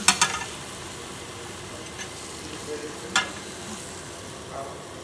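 Beef frying in a pan, hotel style, gives a steady soft sizzle throughout, broken by a few brief louder scraping clatters of stirring, with no one talking.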